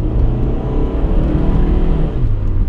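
A Nissan Altima GXE with an automatic transmission accelerates, its engine note loud and close, droning continuously with a rising tone and no talking.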